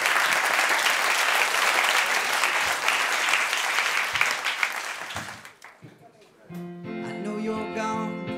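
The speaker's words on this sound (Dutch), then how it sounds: "geef een groot applaus." Loud, dense applause from a large crowd fills the first five seconds, then fades out as music with steady tones begins.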